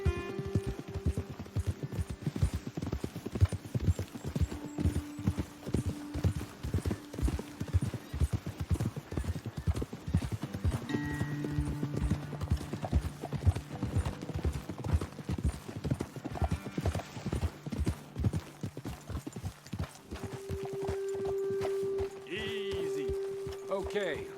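Horses trot along with steady clip-clop hooves in the Red Dead Redemption II video game, the close rhythmic hoofbeats running throughout over background music, with game voices talking intermittently.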